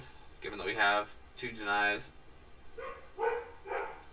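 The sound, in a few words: dog barking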